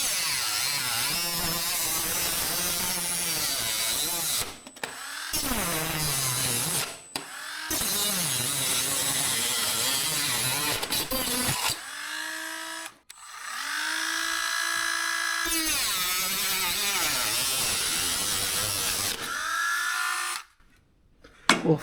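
A Dremel cutoff tool cuts metal while an old Cub Cadet tractor's stubborn steering wheel is being removed, giving a loud, close, high-pitched whine that rises and falls in pitch under load, broken by several brief stops.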